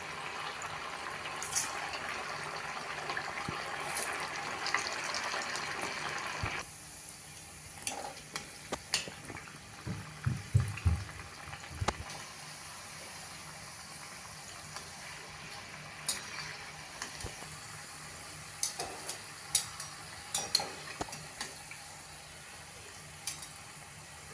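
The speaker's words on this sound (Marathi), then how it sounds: "पुढची पण बॅच तळून घेऊ परत वडे सोडताना मी गॅस मोठा केलेला आहे" Quick potato-and-semolina medu vadas deep-fry in hot oil: a dense, moderately loud sizzle for the first few seconds drops to a softer bubbling hiss with scattered clicks and taps, and no one speaks.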